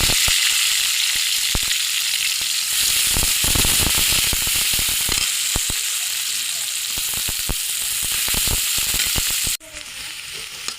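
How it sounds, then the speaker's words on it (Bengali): Chopped onion fries in hot oil in a wok, giving a loud, continuous sizzle with crackling pops and stirring scrapes, until the hiss drops off abruptly near the end. "এই কড়াতে আমরা তেল দিয়ে দিলাম। এখন পেঁয়াজ কুচি দিব কিছুটা।"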